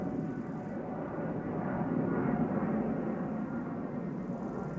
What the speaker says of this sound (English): Meanwhile, 777, having just taken off, going back to Shanghai, passing